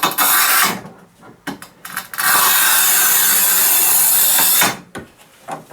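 A TOPVEI TC-X01 manual tile cutter of the 1200 mm Hercules type scores across a ceramic tile, giving a long, loud, steady gritty scraping stroke after a few short scraping bursts, with a brief scrape at the end.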